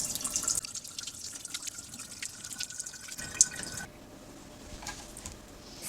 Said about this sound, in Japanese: 身を水洗いします。